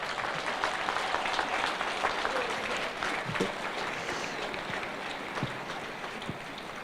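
Applause from an audience at a school prize-giving day for boys in Thika, a steady dense clatter of many hands held at a fairly even level throughout.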